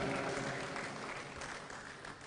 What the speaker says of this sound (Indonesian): tepuk tangan buat Pak Mangindaan, Bapak Sarifudin Hasan,